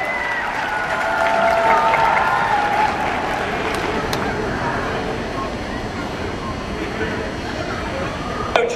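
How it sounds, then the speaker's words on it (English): Crowd applause and cheering fill an arena during an intermission at a Havoc hockey game, a steady, broad clapping roar that swells early and holds at full loudness throughout, with a few whoops on top. "let's hear a round of applause for these great Americans"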